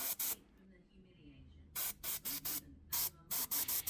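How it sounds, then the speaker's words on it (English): Short, sharp bursts from an airbrush spray burnt umber paint onto model T-72M tank tracks, about a dozen hissing pulses in quick uneven succession, close and fairly loud. "I used some burnt umber and sprayed this on the tracks"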